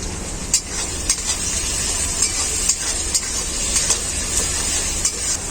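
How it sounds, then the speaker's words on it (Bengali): Chopped onions sizzle steadily in hot oil for a goat meat dish, a loud continuous fry with occasional stirring clicks and scrapes, with no talk. "এরপর আমি এর মধ্যে দিয়ে দেব কেটে রাখা পেঁয়াজ"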